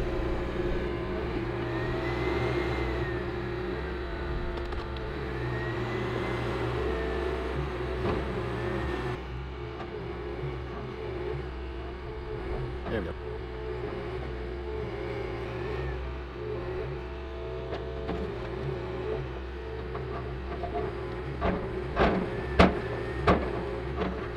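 A large heavy-duty machine with a thumb attachment works in a junkyard, its engine droning steadily close by, with occasional revving swells and a cluster of sharp metallic knocks and clanks near the end.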